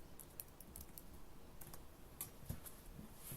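Gentle, light typing on a computer keyboard, a quiet run of soft scattered clicks with small bursts and pauses over a low room hum, with no voices.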